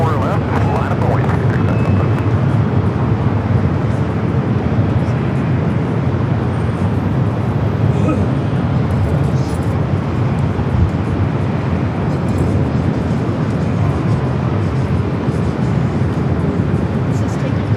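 A jet airliner takes off from a runway at LAX, its engines giving a loud, steady broadband roar that fills the whole stretch, with talk over it.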